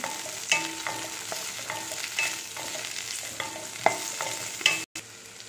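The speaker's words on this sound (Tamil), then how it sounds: "சவு சவு கொஞ்ச நேரம் ஆயிலில் நல்லா ஃப்ரை ஆகட்டும்" Chow chow and tomato fry in hot oil with a steady sizzle, while a spoon or spatula stirs and scrapes the pan in repeated close clinks.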